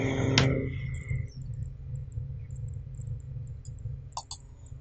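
Computer mouse clicking at a desk during CorelDRAW work: a sharp click near the start, then a couple of faint clicks later over a low steady hum.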